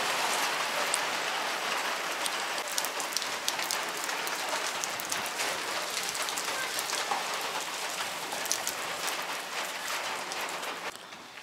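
Steady heavy rain pours down in Meghalaya, India, a dense continuous patter with scattered louder drops hitting nearby surfaces, no voices.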